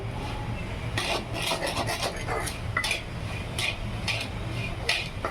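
Chickpeas roast in a pan over a high flame while a utensil stirs them in repeated rasping scrapes, quick and close over a steady background hiss.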